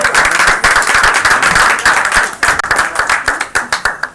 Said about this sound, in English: Let's give Brother Manu another round of applause.